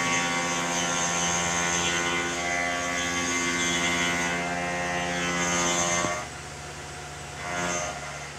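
A machine cutter hums loudly and steadily as it cuts material for a camera enclosure, a sustained tonal whine that drops off near the end and briefly swells again, with no voices.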